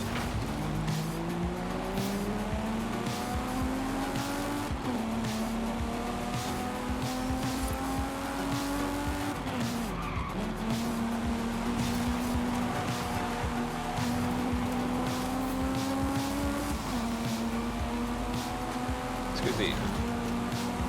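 A 10,000-horsepower Toyota Supra in a racing video game gives a continuous engine drone that climbs and drops in pitch through gear shifts, with tire squeal throughout and a voice talking over it.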